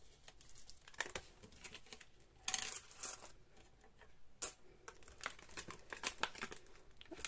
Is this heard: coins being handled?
yes